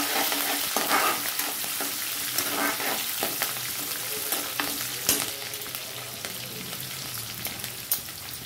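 Dried red chilies and chana dal fry in a pan with a constant crackling sizzle, spotted with small pops and a few utensil taps throughout, close and steady, with no voices.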